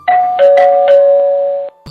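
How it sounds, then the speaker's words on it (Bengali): A flat's doorbell rings close and loud: several chiming strikes ring out over a held tone, then cut off abruptly, followed by a brief faint knock. "তবে চাঁদের ফ্ল্যাটের কলিং বেল চাপলো"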